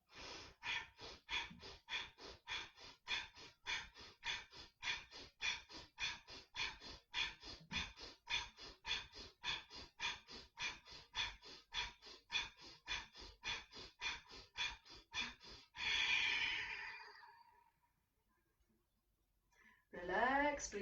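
A person does a deep, rhythmic breathing exercise of 27 breaths, with forceful, evenly paced inhales and exhales repeating about twice a second. A long final breath follows, then a pause and another strong breath, all close to the microphone.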